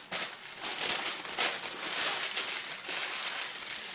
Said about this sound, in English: Now I'm going to wrap it in parchment.